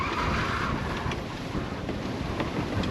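Hot wind blowing off the land across a sailboat under way, a steady loud rush buffeting the microphone with faint water wash beneath, no voices.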